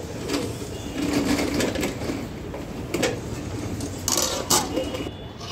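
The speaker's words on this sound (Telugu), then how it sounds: "ఇలా ఒక క్లాత్ తీసుకొని దాంతో ఇలా కదుపుతూ ఈ పులుసు అనేది చేసుకోవాలండి" A pot of fish curry is shaken on the stove while held with a cloth, giving repeated rattling, scraping metal shuffles in uneven bursts beneath a low background hum.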